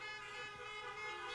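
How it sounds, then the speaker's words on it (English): Car horns honk together in a church parking-lot communion service, a steady, overlapping blare held throughout at a moderate distance. "Just honk your horn."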